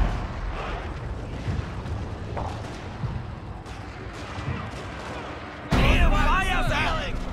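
Rank fire of an infantry line in a video game: a dense crackle of musket shots spread across several seconds, then a louder, sharper burst near the end, with voices talking over it.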